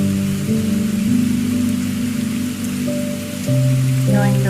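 Steady rain falls as a continuous soft hiss under sustained, shifting tonal music chords, holding a constant, fairly loud level throughout.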